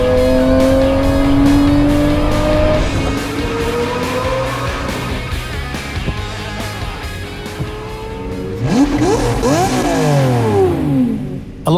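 A naturally aspirated V12 car revs hard and climbs through the gears, a loud, close engine note sweeping upward, then rev-matched blips during the gear changes near the end.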